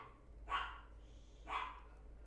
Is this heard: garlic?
no